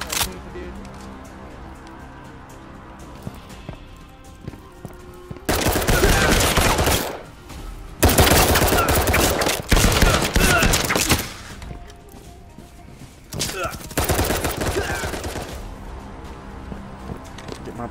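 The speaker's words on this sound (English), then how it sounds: "That's a lot of gunfire." Bursts of rapid gunfire from the VR game Firewall Zero Hour come in several long volleys separated by quieter stretches, loud and dense, with brief talk between them.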